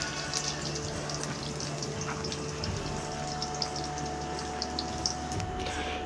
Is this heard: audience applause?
no